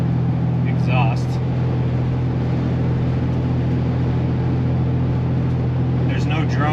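A 2021-or-later Ford Bronco with a Flowmaster FlowFX exhaust cruises at steady speed, giving a constant low engine and exhaust hum with road and wind noise and no rising or falling revs.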